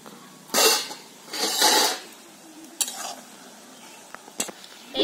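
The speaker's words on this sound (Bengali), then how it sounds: "আমি ঢেকে এবার আমি ঢাকাটা খুলে নিচ্ছি" A lid is lifted off a cooking pot in a home kitchen with a couple of bright metallic clatters and scrapes, followed by smaller taps and clinks, heard close and without talk.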